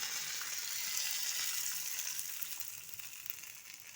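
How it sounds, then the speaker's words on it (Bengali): Dry red chillies, mustard seeds and curry leaves sizzle in hot oil for a tempering, a soft, steady frying hiss with faint crackles, heard fairly quietly. "এই যে আমি তেল গরম করে নিয়েছি, এতে দিয়ে দেব শুকনো লঙ্কা, সরষে আর দিয়ে দেবো কারি পাতা"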